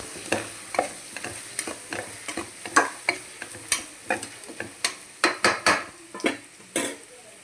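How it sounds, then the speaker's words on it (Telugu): Repeated scraping strokes of a spoon against a pan, steady and close, as turmeric is stirred into frying chicken pulao base over a faint background sizzle. "కొంచెం పసుపు కూడా వేసేసుకోండి. ఇలా కలుపుకోవాలన్నమాట."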